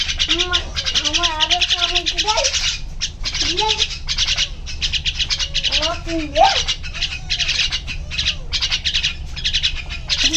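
A cat in a village setting meows repeatedly and close by in short rising and falling calls, over a constant chirpy, noisy background.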